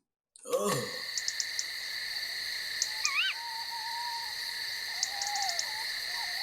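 Owl chicks calling in the dark at night: thin, wavering calls and sharp high chirps over a steady nocturnal insect and frog drone, moderately close.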